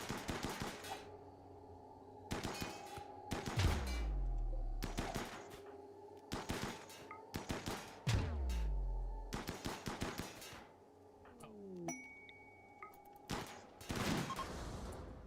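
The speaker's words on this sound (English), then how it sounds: "The sniper rifle just took it out." Rimworld gunfire rings out in repeated sharp cracks, some in quick clusters and some spaced a few seconds apart, each followed by a short falling tail, all set against a quiet game hum.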